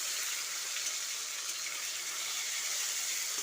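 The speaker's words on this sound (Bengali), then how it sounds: "টমেটোটাকে তেলের সঙ্গে বেশ কিছুক্ষণ ভেজে নিতে হবে" Chopped tomato frying in oil for a cabbage ghonto, a continuous bright hiss of sizzling that stays even and close throughout, with no talking.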